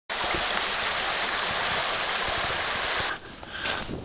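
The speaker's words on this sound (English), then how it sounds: "Huge amount of water going down underground here." A huge flow of water pours down into a sinkhole underground in Ontario, a loud, steady rushing roar close by that drops off sharply near the end, leaving quieter splashing.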